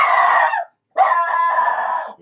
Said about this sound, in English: Your dog is just being aggressive.